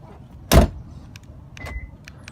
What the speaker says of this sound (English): It unlocks and locks the car.